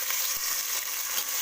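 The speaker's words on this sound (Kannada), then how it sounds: "ಇದು ಸ್ವಲ್ಪ ಮೆತ್ತಗಾಗೋ ತನಕ ಫ್ರೈ ಮಾಡ್ಕೊಳ್ಳೋಣ." Onion and tomato fry in a pan for a chickpea gravy, giving a soft, steady crackling sizzle with no voices.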